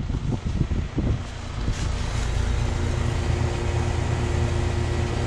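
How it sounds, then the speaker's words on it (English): A 1991 Comfortmaker heat pump with an old Bristol compressor runs in heat mode, giving a steady low hum and airy broadband whoosh. A few brief knocks come early, then the sound settles into a constant drone with no talking. "Got an old Bristol compressor, which actually sounds surprisingly healthy for its age."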